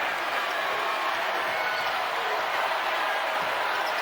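Crowd noise inside a basketball arena at a women's college game between LSU and South Carolina: a dense, constant roar of cheering that fills the whole stretch evenly without a clear peak.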